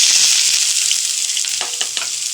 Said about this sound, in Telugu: ఇప్పుడు దీంట్లోని మనం కట్ చేసి పెట్టుకున్న ఆనియన్స్, చిల్లీస్ అనేది వేసుకోవాలి.